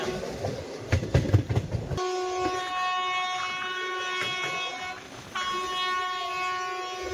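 The Belagavi–Manuguru special fare train, Goa to Hyderabad, rolling along a raised track past a village, with loud wheel clatter at first, then a sustained horn blast that drops off briefly and resumes over the running noise.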